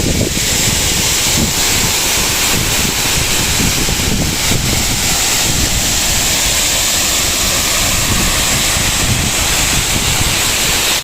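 A forest waterfall roaring continuously at close range, a loud, dense rush of falling water that stays steady throughout with no voices.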